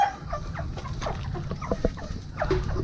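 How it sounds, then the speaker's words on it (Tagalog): Brood hens in a backyard coop cluck in short, repeated calls from close by, with scattered higher chirps over a steady low background. "Ayan yung mga brood hen natin."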